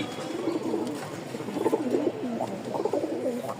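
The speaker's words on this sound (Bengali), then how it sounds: "একটা কবুতর ছাড়ি ছাইরা দেখাই ডাকটা" A male Bombay pigeon cooing nearby, repeated soft, throaty warbling coos in a steady rhythm with low background noise.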